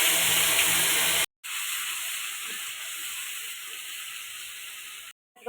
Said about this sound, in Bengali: একটা টমেটো পেস্ট দিয়ে দিচ্ছি।